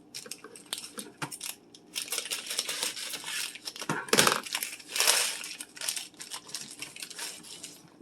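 Plastic kielbasa sausage package being torn open and handled in a kitchen, with irregular crinkling and crackling bursts at moderate volume, one louder rustle near the middle.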